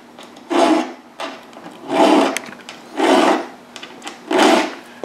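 A round file sharpening a chainsaw chain cutter, grinding its edge from the low point to the high point, gives four loud, evenly spaced rasping strokes close up, with short pauses between them and no talking.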